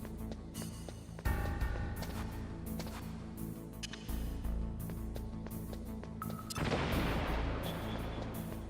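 Plastic explosives detonate in the Metal Gear Solid video game. Deep booming blasts and gunfire-like bursts play at low level over a continuous game soundscape, and a louder rushing burst comes near the end.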